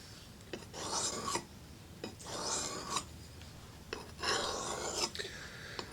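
A hand-forged knife blade is drawn across a sharpening stone in slow, even strokes, each a gritty rasping scrape lasting under a second, about five passes close by with no talk.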